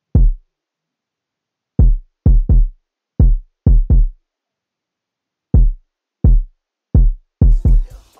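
A deep phonk kick drum plays a second, busier syncopated pattern, its booming hits falling in quick pairs and singles with clean silence between, and a faint hi-hat entering at the very end.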